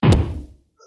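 A large clock topples in the horror video game Witch's House, landing with one loud, heavy thud that trails off over half a second, ending in near silence and a faint tonal blip.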